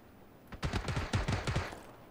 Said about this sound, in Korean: 근처에서 총소리 났거든요?